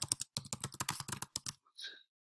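Fast clattering keystrokes on a computer keyboard in a quick burst, close and clear, then a short pause and a faint trailing click, with no talk.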